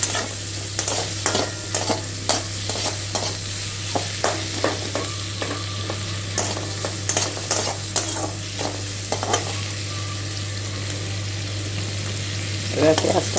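Four cloves sizzle in darkened hot oil as a tempering, a steady crackling fry with repeated sharp clicks of a utensil stirring in the pan, no one speaking.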